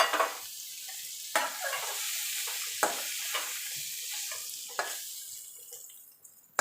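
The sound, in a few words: stirring frying pumpkin and bitter gourd in a pan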